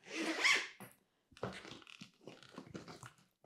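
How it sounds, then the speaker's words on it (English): The large zipper pull on the expander of a Beis carry-on roller suitcase is run along its track, making a few short, quiet, close rasping bursts separated by brief pauses. "This is the zipper for the expander, and the zipper pull is actually quite large, super easy to zip."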